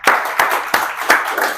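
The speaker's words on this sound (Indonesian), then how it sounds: "berarti tepuk tangan" A classroom of students claps in unison, four loud, sharp group claps in a steady rhythm, close and dense.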